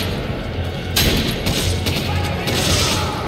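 Shotgun blasts in Resident Evil 5, a few loud broadband bursts spaced about a second or more apart over dense, noisy game combat ambience, with faint speech underneath.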